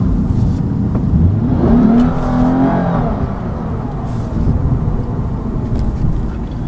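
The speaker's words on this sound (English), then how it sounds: "the intake sound in this car is definitely also very addicting" A 2014 Lexus IS350 F Sport accelerating, its engine intake droning loudly from inside the car, rising in pitch and then holding a steady roar, with no one talking.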